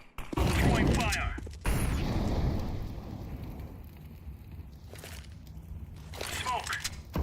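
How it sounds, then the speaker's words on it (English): In Counter-Strike 2, a flashbang and then an incendiary grenade are thrown, giving loud broadband bursts followed by a roaring, crackling burn, with short voice callouts in between. "Throwing flashbang. Throwing fire."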